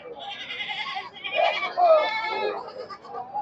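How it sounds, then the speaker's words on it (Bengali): Black Bengal goats bleating at a busy goat market, several overlapping calls close by, the loudest at about two seconds, with a faint murmur of voices around them. "দেখেন হাজার হাজার সব ছাগল"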